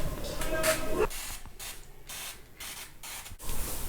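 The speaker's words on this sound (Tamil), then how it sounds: "கொஞ்சோண்டு இது மேலே நெய் ஸ்ப்ரே பண்ணிடுறேன்" Ghee is sprayed onto prasadam in short, sharp hissing bursts, a louder spray at first followed by several quieter spurts spaced irregularly, close by in a kitchen.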